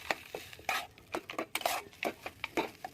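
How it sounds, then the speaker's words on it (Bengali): Coconut, peanuts and chopped chilli are stirred in a pan, giving a series of fairly quiet, irregular spoon clacks and scrapes against the metal. "এইভাবে নাড়াতে থাকবো একটু।"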